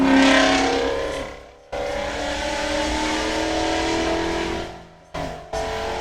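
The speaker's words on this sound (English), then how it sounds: "Loud ass cars." Loud cars rev and roar past, engines rising and falling in strong bursts, with brief drops to near silence between passes and one short cut near the end, no talking.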